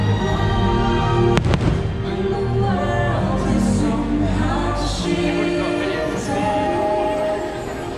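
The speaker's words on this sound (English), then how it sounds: "they do the fireworks show on the Fantasmic stage with a water projection" A nighttime fireworks show at the Star Wars Galaxy's Edge theme park, staged with water projection, booms and crackles over a dense bed of loud music and crowd noise.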